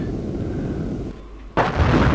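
A Maverick missile fired from a Eurofighter EF2000 at a tank in a flight game, a steady roaring rumble that drops away and then breaks into a loud, sudden blast near the end.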